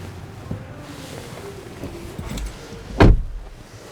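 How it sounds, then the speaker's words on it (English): The power trunk of a 2022 Mercedes-Benz GLB 250 4MATIC closes with a low motor whir and soft rattles, then finishes with a single firm thud as the tailgate latches, near and clear. "Power opening and closing trunk. Push button to close."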